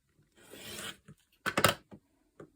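Quilt fabric edges trimmed along a ruler on a cutting mat, a soft scraping draw followed by a few short sharp rasps and taps, close and quiet.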